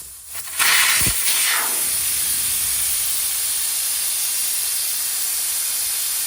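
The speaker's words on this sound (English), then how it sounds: "let's get the little valve core out" Air rushes out of a large 37-inch truck tire once the valve core is removed. A sharp opening burst settles into a loud, steady hiss that continues without a break and with no voices.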